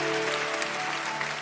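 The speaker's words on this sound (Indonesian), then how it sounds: "Kita berikan tepuk tangan bagi Tuhan kita" A church congregation clapping together during a Sunday service, a dense, steady wash of applause filling the short moment, with a sustained organ or keyboard tone underneath.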